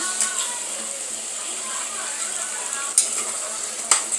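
A spoon stirs chicken, potato and drumstick salna in a pan, giving a steady low sizzle with faint scraping and two brief sharp clinks near the end, heard alone without talk.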